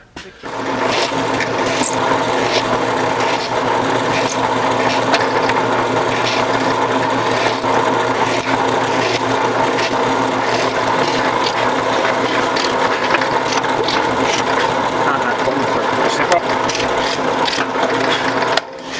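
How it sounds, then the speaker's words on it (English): A power drill whirs steadily and continuously, drilling and countersinking holes in wood at close range, a constant buzzing grind with faint clicks and no pauses. "I'm going to drill and countersink a bunch of holes here"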